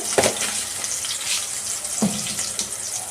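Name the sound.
onion and seeds frying in hot oil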